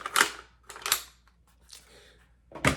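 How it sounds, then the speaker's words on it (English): A rifle magazine is pushed into an Agilite Pincer placard pouch, making a few sharp, close clicks and scrapes of plastic and fabric in quick succession with quiet rustling between. "So what you can do is just take this, quickly stick it back in, and grab another mag, pop it in."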